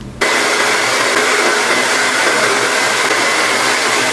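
A handheld hair dryer blows the ends of long hair during a blowout, switching on sharply and then holding a loud, steady, close-up whirring roar without pause.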